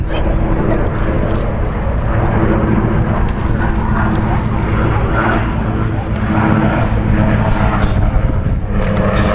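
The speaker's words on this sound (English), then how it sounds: "And here they come, the Provost T1 and the Jet Provost T5A." Provost T1 piston trainer and Jet Provost T5A jet flying together at a Duxford air display, a continuous loud engine roar and whine carrying over the airfield without letting up.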